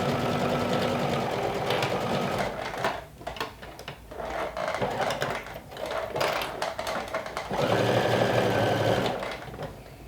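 Sewing machine stitching a seam on a lumberjack shirt cuff hums steadily up close, pausing briefly midway before running again at full speed.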